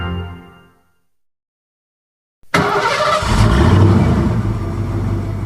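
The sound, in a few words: car engine from a sound effects library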